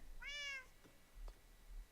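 A cat in the Minecraft video game gives one clear, mid-length meow near the start, followed by faint scattered clicks and quiet background.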